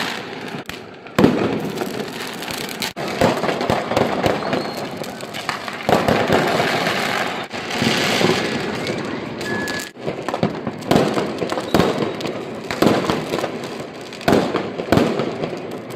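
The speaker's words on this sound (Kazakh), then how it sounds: "Хлопушкалерін атып." Fireworks and firecrackers burst at New Year, a dense run of pops, bangs and crackles at varied distances. Some are near and loud, others far off, and they keep going without pause under faint background voices.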